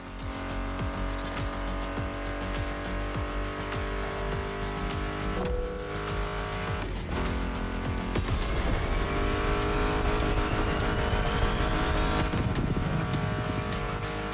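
Race car engines roar and rev in a racing video game, loud and continuous, with pitch sweeps as the cars accelerate, layered over a steady soundtrack of music.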